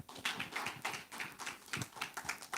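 Applause from a summit audience for a guest speaker at a Chevron-hosted event: a sparse, uneven patter of a few hands clapping at a moderate distance, with loose rhythmic bursts rather than a dense ovation.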